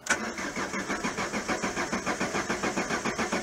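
A Renault Clio running on E85 cranks in the cold, its starter chugging in a fast steady rhythm as the engine struggles and fails to catch, close and continuous throughout.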